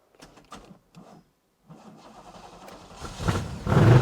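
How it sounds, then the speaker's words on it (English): A cheap, repaired Ferrari F40 is coaxed to start: a few scattered clicks and a pause, then cranking that builds and the engine catches with a loud burst at the end. "this is going to be loud, like you know it's going to start"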